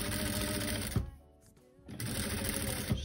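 A sewing machine stitches bias binding onto fabric, running steadily up close, pausing briefly partway through, then resuming its rapid mechanical whir.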